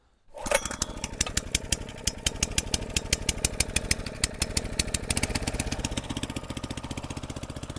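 A salvaged Honda rammer engine fires up after a short silence and runs with a fast, evenly pulsing single-cylinder putter, loud and close, holding a steady rhythm throughout.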